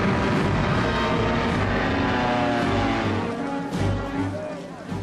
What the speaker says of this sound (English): the Stukas and medium bombers proved devastatingly effective.